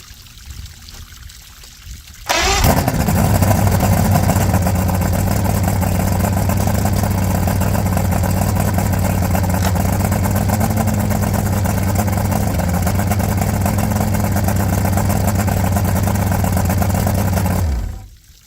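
A Johnson GT 200 outboard motor, newly fitted with a starter and powerpack, catches after a quiet start and runs loud and steady at close range, its drone mixed with splashing water before cutting off near the end.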